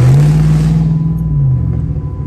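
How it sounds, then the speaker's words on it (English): A Chrysler SRT engine under hard acceleration gives a loud, close, droning roar that holds steady for over a second, then drops in pitch and eases off. No voices are heard. "that Chrysler sounds so crazy"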